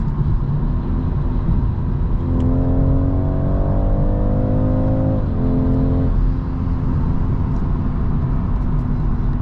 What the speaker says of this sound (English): Upshifting pushes you back to the seat.